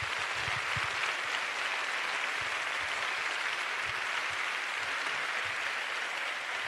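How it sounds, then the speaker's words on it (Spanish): Sustained audience applause at a public political event in Seville, a dense steady wash of clapping lasting several seconds without a break. "un aplauso a estos jóvenes que están colaborando"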